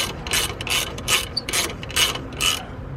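A ratchet wrench tightening the alternator mount on a Subaru Forester, about seven quick, evenly spaced clicking strokes, close and clear with no talk.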